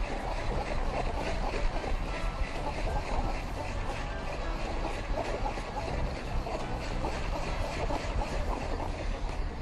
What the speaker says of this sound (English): I'm going to crank until the cream has thickened.